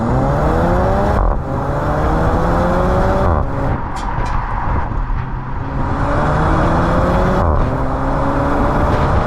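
A Porsche Macan with a PDK gearbox accelerates downhill, its engine note climbing loud and close through several quick gear changes, each marked by a brief dip before the pitch rises again.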